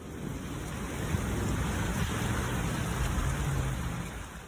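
Floodwater rushes through the streets of Laramie, Wyoming after a torrential downpour, making a steady, fairly close wash of churning water mixed with wind noise on the microphone.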